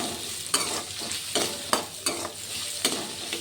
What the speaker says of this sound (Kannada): ನಾನೊಂದು ಸ್ಪೂನು ಎಣ್ಣೆ ಹಾಕ್ಕೊಂಡು ಈರುಳ್ಳಿ ಹಾಕ್ಕೊಳ್ತಿದ್ದೀನಿ. ಇದನ್ನು ಸ್ವಲ್ಪ ಎಣ್ಣೆಯಲ್ಲಿ ಫ್ರೈ ಮಾಡ್ಕೋಬೇಕು.